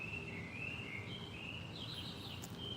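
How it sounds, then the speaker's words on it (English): A bird sings faintly in the distance, thin wavering high notes drifting over a soft, steady background hiss. "We have another bird."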